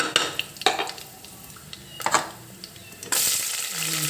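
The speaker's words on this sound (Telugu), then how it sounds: "ఆనియన్స్ ఫైవ్ మినిట్స్ వేగాలి" Onions frying in a pan for a home-style curry: a few light utensil clinks and stirring knocks, then a steady, fairly loud sizzle takes over for the last second, with a faint voice in the background.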